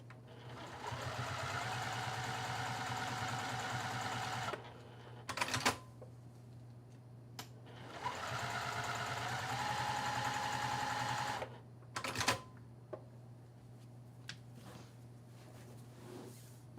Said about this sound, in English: I'm going to stitch this 1/4 of an inch away from the edge on either side of the seam.